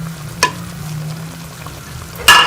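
Chicken with tomato ketchup and spices is stirred in a frying pan, giving a soft, continuous sizzle and two sharp scraping clatters of the spoon against the pan.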